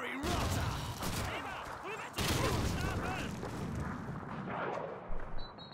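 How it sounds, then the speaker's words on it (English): Battle noise in Call of Duty 2, heavy booms and gunfire rolling through, with one sharp grenade blast partway along and a person talking over the din. "Oh, that was my own grenade."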